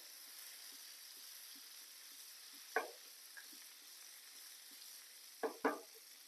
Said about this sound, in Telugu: ఫ్రై చేద్దాం ఇలాగా.